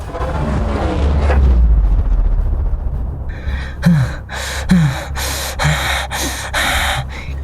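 Heavy panting from a character exhausted after fighting demons, a series of sharp gasping breaths at a fast rhythm, following a low rumbling swell, loud and close.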